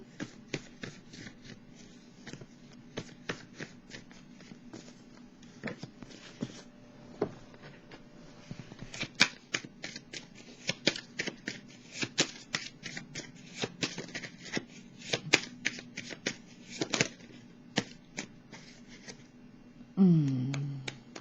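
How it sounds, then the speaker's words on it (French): A tarot deck is shuffled on the floor in a long run of crisp, close card riffles and flicks. The bursts come in quick irregular clusters, with a brief muffled thump at the very end. "J'ai déjà mélangé les cartes au sol"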